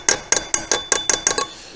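A run of eight sharp metallic taps from a makeshift hammer on a cheap four-wheeler's clutch, fairly quick and evenly spaced, ringing briefly with a bright clink.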